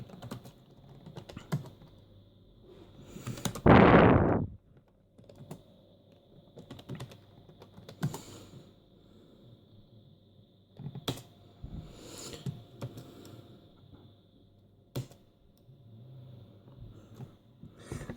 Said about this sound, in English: So typing CLS at the command prompt